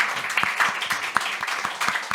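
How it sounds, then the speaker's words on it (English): Audience applause at an investment conference session, a dense close patter of many hands clapping steadily throughout, with a faint voice underneath. "So please, please, a big applause for him."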